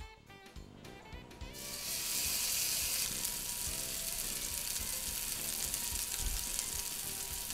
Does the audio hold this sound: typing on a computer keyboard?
no